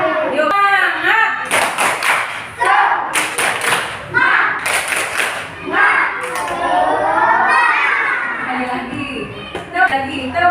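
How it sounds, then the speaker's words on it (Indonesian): A classroom of young children does a rhythmic spirit clap, with bursts of loud group clapping and thumps alternating with shouting and talk. "Sekali lagi, tepuk semangat!"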